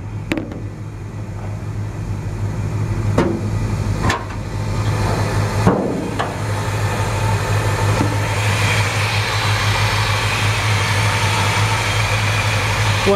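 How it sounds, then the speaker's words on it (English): A 1957 GMC 100 pickup's 454 V8 idles close by with a steady low rumble, broken early by a few sharp clicks or knocks. "When you hear the engine run nice and strong."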